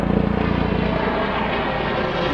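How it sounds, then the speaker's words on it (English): A helicopter passes overhead outdoors, a loud steady rotor drone that is strongest at first and then slowly fades as it moves away, with no talking. "that was just a chopper just went by"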